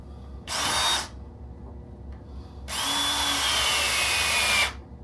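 A hammer drill runs in two bursts, a short whine of about half a second, then a longer two-second run with a slowly falling pitch, loud and close with quiet room tone between.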